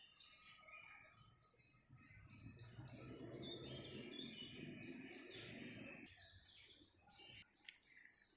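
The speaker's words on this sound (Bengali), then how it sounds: "দেখো কত পাখির ডাক।" Birds call outdoors near jackfruit trees on a quiet morning, faint scattered chirps and a steady high insect-like drone running throughout, with a brief louder rustle near the end.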